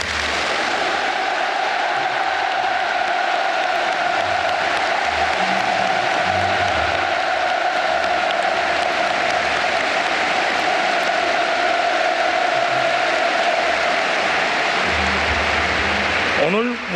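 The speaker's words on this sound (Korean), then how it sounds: "다시 한번 뜨겁고 열렬한 박수를 보내주시기 바랍니다" A huge crowd of Pyongyang citizens applauds at a large open-air political rally, a dense, sustained roar of clapping that holds steady for the whole stretch and tapers slightly at the very end.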